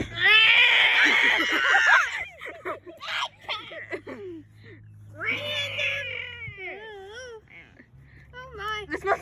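A cat meows and yowls in loud, drawn-out wavering cries, with short gaps between calls, over a low steady tonal background and bits of voices.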